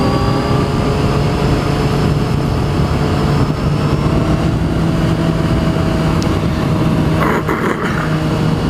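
A motorcycle engine runs steadily and fairly loud throughout, a continuous droning hum with slight throttle changes and a brief rougher burst near the end, no talking over it.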